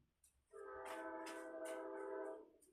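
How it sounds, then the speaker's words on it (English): Train horn sounding at a distance in one long sustained blast of roughly two seconds, with faint rail noise around it and no talk. "You hear the train?"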